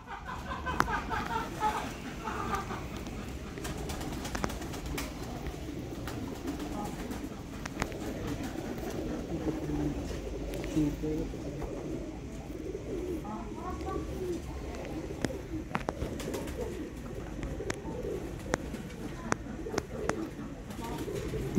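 Rare Sialkoti chuha pigeons cooing in soft, repeated low calls, close by against a steady background hum, with occasional faint chirps.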